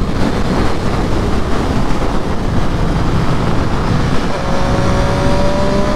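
A Triumph 765 Street Triple RS, a three-cylinder sport motorcycle, is ridden hard at high revs, its engine note loud and continuous under heavy wind rush, with a rising whine toward the end.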